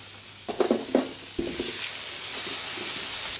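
Onion, carrot, potatoes and chili pepper hit hot olive oil with a few quick stirring clatters, then settle into a steady close sizzle.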